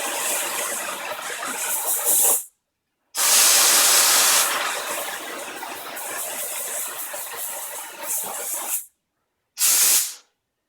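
Loud, close aerosol freeze spray hisses onto hot metal of a Vespa's dented panel in long bursts, pausing briefly between them, with a harsh steady rush of gas.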